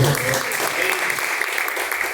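Congregation at a church service clapping in praise, a dense continuous patter of many hands, fairly loud and steady throughout with possible voices mixed underneath.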